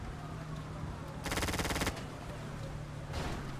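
Machine-gun fire in GTA 5 roleplay, a tight rattling burst of rapid shots lasting under a second, then a shorter burst near the end, over a steady low background hum.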